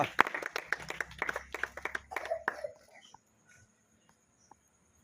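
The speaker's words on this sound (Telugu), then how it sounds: "అందరూ గట్టిగా చప్పట్లు కొట్టండి." A church congregation claps in a quick, fairly close burst of applause that fades out after about three seconds, leaving near silence broken by a few faint knocks.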